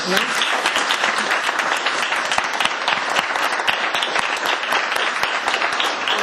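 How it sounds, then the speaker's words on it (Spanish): Dense, steady applause from an audience at the close of a STEM Talent Girl masterclass, loud and continuous throughout, with faint voices mixed in. "muchísimas gracias y un aplauso"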